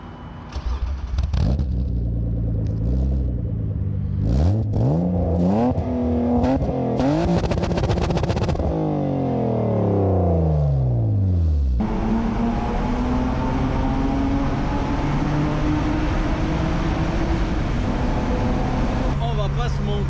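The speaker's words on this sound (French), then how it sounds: "On va descendre le véhicule." A car rolls down a slope toward a tunnel, its engine droning and shifting pitch through gear changes, with rising and falling whine and road noise, close, while people talk over it.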